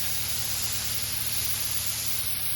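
A homemade snow-making machine sprays steadily outdoors in a yard, giving a constant loud hiss with a low mechanical hum beneath it and no voices.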